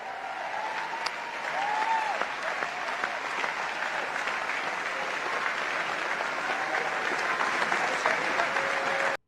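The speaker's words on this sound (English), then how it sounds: "It was the largest applause I've ever heard." A large crowd applauds loudly and continuously, a thick sustained roar of clapping that holds at an even level throughout before cutting off at the very end.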